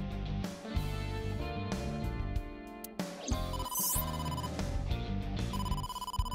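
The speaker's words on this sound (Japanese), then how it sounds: "Mooma から電話が。" A telephone rings in the video game AI: The Somnium Files, its repeated electronic ringtone pattern sounding loudly over steady game music throughout, with no voices.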